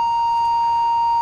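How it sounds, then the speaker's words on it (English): A quiz bowl buzzer ends the round with a single loud, steady electronic tone that holds unbroken for over a second. "that buzzer signifies the end of the round"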